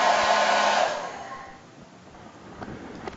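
A hair dryer runs on a lower setting, a steady whooshing hum that fades out after about a second, leaving quiet room noise.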